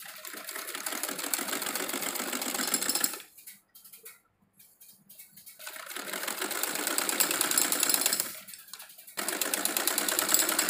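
A sewing machine stitches the hem of an embroidered bordered salwar, running in two long, loud, steady bursts of rapid whirring with a silent pause between them, then starting again briefly.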